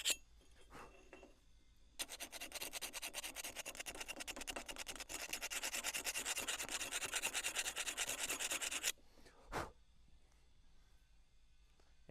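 Build-up is scraped off the bottom plate of a Split-Fire log splitter in a steady run of rapid rough strokes lasting several seconds, close by, with a few isolated scrapes before and after.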